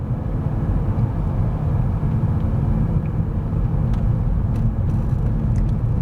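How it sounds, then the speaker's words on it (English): Road traffic heard from inside a vehicle during a morning commute, a loud continuous low rumble of engines and tyres with faint passing hisses and no voices. "look at all this traffic everywhere"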